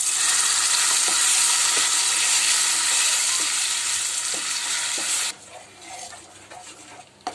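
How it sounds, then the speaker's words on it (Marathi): Dhaba-style sukka chicken masala sizzling loudly in hot oil as it is stirred in the pan. Intermittent scraping strokes sound over the hiss, and the sizzle drops off sharply near the end. "त्यामुळे 2 मिनिटं तेलात परतून घ्यायचं आहे"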